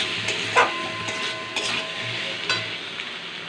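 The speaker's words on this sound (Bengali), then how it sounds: "সব মিশ্রণগুলোকে ভালো করে ভেজে নেব যতক্ষণ না তেল ছাড়ছে মশলা থেকে।" A spice paste of chili, cumin and coriander powder fries in oil for a fish-head curry, giving a continuous close sizzle with intermittent scraping strokes of a spatula stirring the pan.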